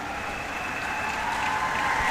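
Audience applause fills a carnival kings and queens competition after a dancer's presentation, a dense steady wash of clapping that swells slightly toward the end.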